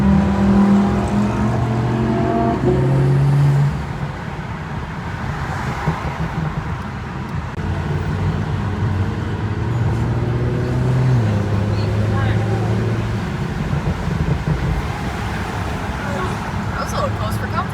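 An Audi S4 cruises down a road, its engine note rising and falling through gear changes alongside road and traffic noise, with people talking over it inside the car.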